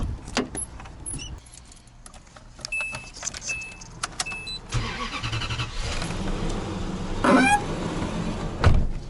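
Inside a Toyota Century, clicks and rattles come before motorized whirring as power windows lower, the hum steady over several seconds and opening up to outside noise.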